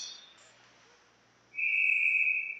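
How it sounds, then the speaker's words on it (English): A referee's whistle at an ice hockey game, one sustained shrill blast about a second long, loud and fairly close after a quiet arena lull. "We'll get a whistle as looked like McInnes was on top of the puck in the corner"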